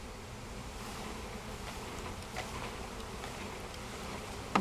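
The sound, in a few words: swarm of bees buzzing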